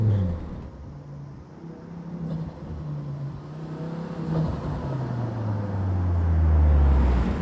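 A Volvo V70R with a new turbo and upgraded compressor bypass valve runs as the throttle lifts, its engine drone falling and rising with a soft whir, loud and close with no talking.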